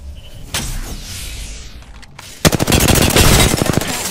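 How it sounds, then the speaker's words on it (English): Bomb bots firing at the player in Apex Legends, a quiet stretch with a single shot and a mechanical whir, then a loud, close burst of rapid automatic gunfire lasting over a second. "Bomb bots are shooting at me."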